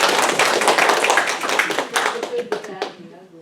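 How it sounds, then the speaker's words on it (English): Audience round of applause for a guest at a holiday talk on Santa's history, dense clapping that thins out toward the end, with voices mixed in. "give Michael a big round of applause"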